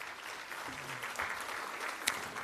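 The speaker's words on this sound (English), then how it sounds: "Please give her a round of applause as well." An audience claps at a Lynwood Unified School District State of the District event in 2025. The applause is a sustained, even wash of clapping from a full room, with one sharper clap near the end.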